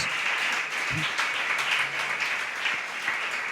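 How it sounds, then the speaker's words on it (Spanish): Church congregation applauding God during a Spanish-language worship service, a continuous wash of clapping that holds steady for several seconds. "Dale un aplauso al Dios de Daniel"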